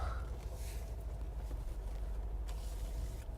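A 2013 Mercedes-Benz G63 AMG G-Wagon with a twin-turbo V8 crawls through an off-road obstacle, giving a steady, close, low engine rumble that carries on unbroken with no voices.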